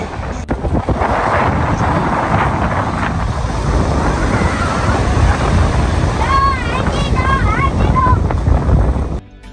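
Big ocean waves crashing on the shore at Ocean Shores at night: a loud, continuous roaring surge mixed with heavy wind buffeting on the microphone, while people talk and exclaim over it.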